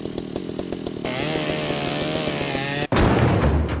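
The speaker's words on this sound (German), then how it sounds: "das muss man mit der Kettensäge gehen" In the video game Ship Graveyard Simulator on PS5, a chainsaw cuts apart ship scrap with a loud, steady, high-revving buzz that cuts out suddenly and gives way to a deep, booming rumble.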